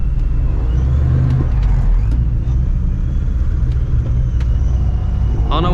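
Cars rumble at a car meet, a loud continuous low engine drone with heavy idling throb from straight-piped engines nearby, holding steady without distinct rev peaks.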